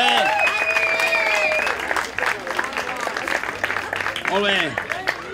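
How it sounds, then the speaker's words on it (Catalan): Diners at a festival dinner celebrating Santa Helena applaud the cooks after a fideuà meal, with hearty crowd clapping that softens midway and rises again, mixed with shouts, whistles and chatter. "El primer que hauríem de fer és aplaudir."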